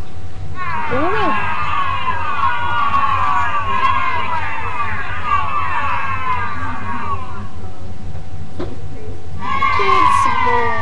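A crowd boos loudly, many overlapping voices holding long jeering tones for several seconds, then falling quiet before a shorter burst of booing returns at the end.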